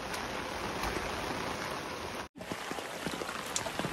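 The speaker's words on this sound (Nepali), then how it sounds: "हावा पानी आउँदैछ।" Steady rain with wind during the rainy season, a continuous loud hiss of falling water that cuts out for a moment midway and then resumes.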